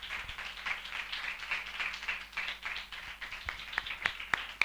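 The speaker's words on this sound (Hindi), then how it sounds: "हम जोरदार ताली से उनका स्वागत करें।" A congregation at a prayer meeting claps in a dense, continuous patter of applause, with several sharper individual claps standing out toward the end.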